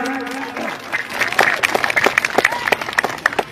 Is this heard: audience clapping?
yes